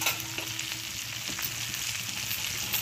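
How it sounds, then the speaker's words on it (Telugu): Thinly sliced okra sizzles steadily in hot oil in a pan, a dense close frying hiss with small crackles and occasional stirring, and nobody speaking. "నేను బెండకాయ ముక్కలు ఇలా సన్నగా తరిగినవి వేసేస్తున్నాను."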